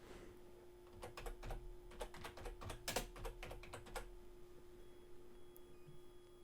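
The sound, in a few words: typing on a computer keyboard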